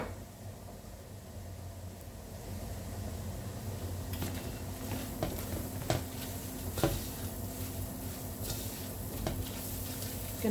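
Onions going into a pot of island-style stewed fish, a soft sizzle under clattering stirring and scraping, with a few sharper knocks of a spoon against the pot; fairly quiet and steady.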